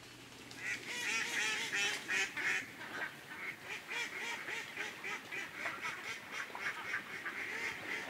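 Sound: ducks quacking on a Taiwanese duck farm

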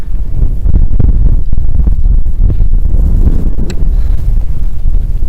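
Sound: strong wind on Ural mountain climb

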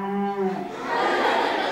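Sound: person imitating a cow mooing

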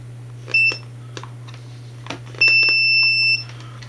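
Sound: multimeter beeping in continuity mode

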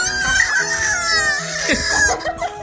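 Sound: rooster crowing

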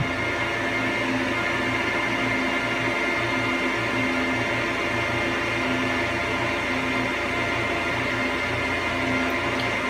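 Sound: 2006 Apple Xserve server booting up, fans running

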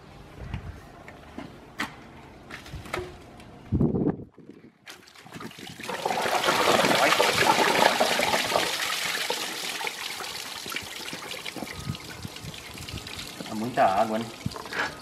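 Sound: lots of water pouring out while cleaning a car

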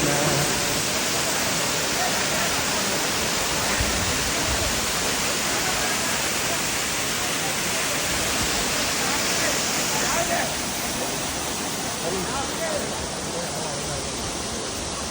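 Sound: waterfall

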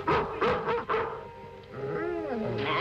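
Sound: dog barking and whimpering

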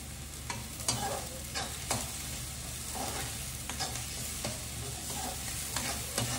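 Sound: garlic being roasted and stirred in a pan for egg curry

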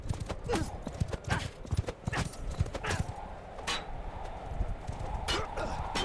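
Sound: horse hooves in video game Bannerlord

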